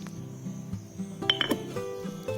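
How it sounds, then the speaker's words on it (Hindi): Sharp metallic clinks and taps ring out irregularly over a low background hum, like a pestle knocking inside a mortar, pounding ingredients into a fine paste. "उसमें आप कूट लीजिए और इसे बारीक सा पेस्ट बना लीजिए।"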